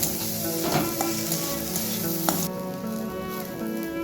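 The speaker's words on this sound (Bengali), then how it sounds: "এবার হালকা করে এগুলোকেও একটু ভেজে নেব।" Garlic, ginger, onion and green chilies sizzle steadily in hot oil in a pan, a continuous close frying hiss with occasional stirring scrapes and no talking.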